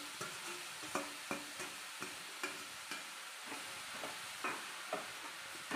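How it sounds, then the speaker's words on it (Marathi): Chopped spinach being sautéed in oil for a village-style palak bhaji, a soft steady sizzle broken by regular scraping stirs of a spoon in the pan, close and fairly quiet, with no talking. "पालकची भाजी जी चिरून घेतली ती आपल्याला त्याच्यामध्ये परतून घ्यायची आहे जरा."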